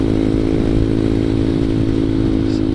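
A ZS 190cc Honda Grom clone motorcycle engine runs at a steady idle, a loud, close, continuous mechanical drone with even, unchanging rhythm and no voices.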